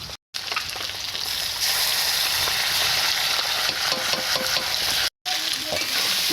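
A ground paste of ginger, cumin, black pepper and dry red chilli fries in oil with potato and chopped tomato, a loud steady sizzle broken by stirring scrapes and two brief cuts to silence.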